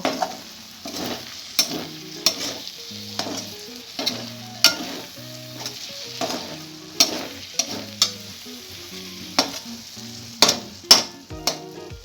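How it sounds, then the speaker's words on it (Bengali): Chopped coriander is stirred into a spicy fish bharta in a hot pan, the spoon scraping and knocking the pan in uneven strokes over a soft sizzle, close up with no voices. "ধনেপাতা কুচিটাকে ভালো করে মিশিয়ে নেব।"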